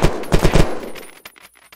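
Rapid burst of hipfired gunfire from a low-recoil weapon without attachments in the video game Unturned, Arid map: about four close, loud shots in quick rhythm followed by fainter clicks and handling noises.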